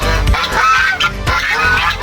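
Backyard farm geese honk loudly close by, several harsh nasal calls in quick overlapping bursts with no talk.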